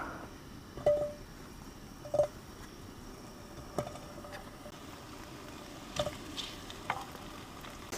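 Food, with kielbasa to come, sizzles in a pan at a woodland truck campsite, giving a steady frying hiss with a few sharp clicks and pops.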